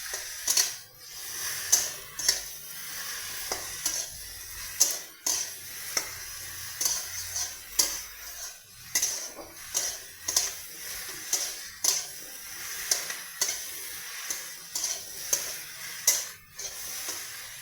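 Okra sizzles and fries in a pan, with a steady hiss broken by repeated scraping and clinking of a spatula stirring.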